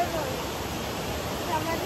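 A waterfall pours as a steady broadband rush, continuous and fairly loud, with faint voices mixed in.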